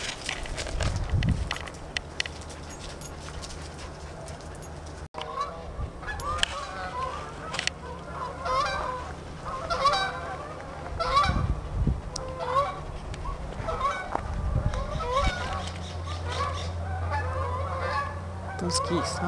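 Geese honk repeatedly from a flock outdoors, the calls rising and falling in scattered bursts at a moderate distance over steady background noise, with a brief break partway through.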